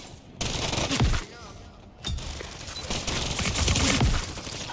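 Bursts of gunfire in World of Warcraft: The War Within, dense crackling volleys that cut in and out with short gaps, loud and close with little talk.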